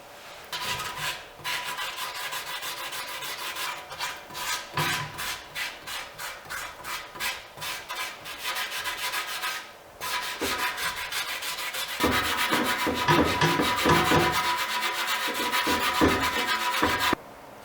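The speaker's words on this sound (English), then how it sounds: "now I'm going to get on the boat and do a little prep work with the sanding block." Hand sanding of a boat's centerboard with a sanding block, steady rasping strokes in quick rhythmic runs, close and fairly loud, with a short pause near ten seconds before heavier, denser strokes resume.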